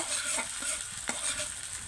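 Chopped onion and small pieces of garlic sizzle in hot oil while being stirred, a steady bright frying hiss with a few scraping strokes, close and alone.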